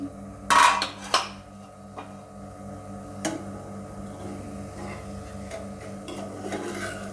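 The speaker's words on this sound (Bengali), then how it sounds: "এবার ঢাকনা খুলে দেখি" A lid comes off a cooking pan with two quick metallic clanks close up, then a few faint clicks over a quiet steady hum.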